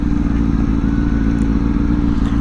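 A BMW S1000RR superbike engine drones steadily on a group ride, a loud, close, continuous low rumble with wind noise and no pause throughout.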